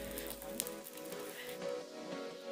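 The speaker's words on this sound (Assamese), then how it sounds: "যিদিনা আমি তাত গৈছিলোঁ বৰষুণ বহুত বেছি আছিল" Heavy rain at a monastery in Tawang, Arunachal, as a steady, faint patter of drops without voices.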